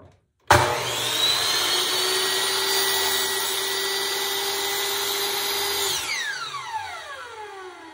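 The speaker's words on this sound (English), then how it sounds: "I'm gonna line up my mark in the channel here, and then I'm gonna make my cut." A miter saw cuts wood from a thrifted picture frame: a sudden motor start, a loud steady whine through the cut, then a falling spin-down as the blade coasts to a stop.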